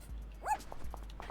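A dog in the video game Adventuring to Pixelia gives one short, close bark over a low background hum, with faint footstep-like taps around it.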